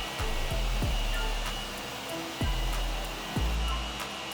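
A garden hose sprays water steadily onto a 992.2 Porsche Carrera, a loud continuous hiss and splash, with a few brief low thumps as the stream shifts.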